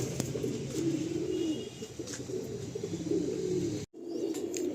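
Andhra pigeons in a Kolkata loft giving soft, throaty coos in a continuous murmuring chorus, fairly near and moderately quiet, with a brief gap near the end.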